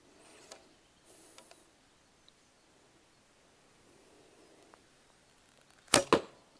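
A Krym Monolith Tatar bow looses an arrow, heard as a loud, close double crack, release and then impact, coming after several seconds of near silence broken by faint rustles.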